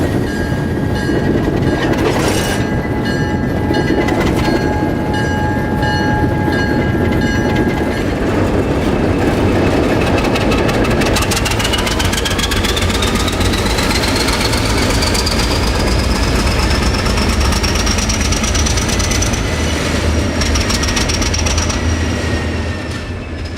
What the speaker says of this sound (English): back the train into Willow Yard